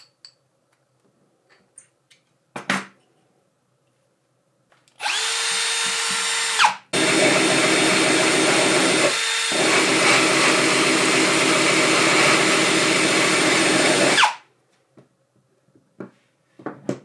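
An electric drill fitted with an adapter for saw blades and grinding discs whirs steadily and loudly, in two long runs separated by a brief pause, with a few clicks and taps before and after.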